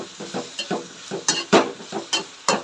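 Metal spoon stirring tomato into frying masala for egg curry in a pan, a steady run of scraping strokes over a soft sizzle, close and clear with no talking.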